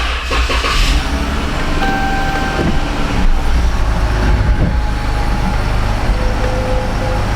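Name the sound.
2014 Dodge Charger backing out of the shop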